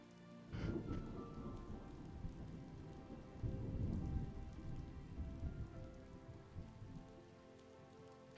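Steady rain with rolling rumbles of thunder in a video game, a louder crack early on and swells of low rumble throughout, moderately distant and fairly quiet, with no voices.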